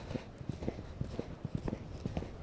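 Rapid, uneven clip-clop of horse hooves on a hard surface, close and steady, with a faint voice in the background.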